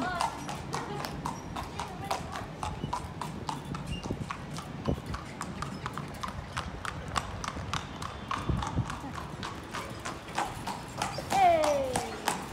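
A horse walks along with steady, fairly close clip-clopping hooves and a steady rhythm, while people chat nearby and a brief whinny-like sound rises near the end.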